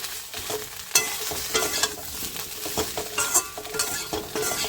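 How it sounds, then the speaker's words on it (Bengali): Vegetables with spices sauté in a pan on the stove for a vegetarian dish, stirred briskly so a spoon scrapes in repeated strokes over a constant crackling sizzle, close and fairly loud with no talking. "এটা 1-2 মিনিট এইভাবে নাড়া দিয়ে ভালো করে একটু কষিয়ে নেব।"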